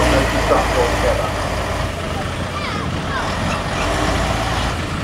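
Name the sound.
Leyland drop military truck engine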